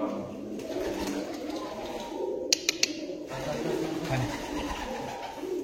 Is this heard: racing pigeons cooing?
yes